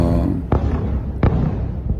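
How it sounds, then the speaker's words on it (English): Two sharp gunshots from a heavy-duty gun crack out at a distance, evenly spaced, over a steady roar of background noise. "now we hear shoot gunshot"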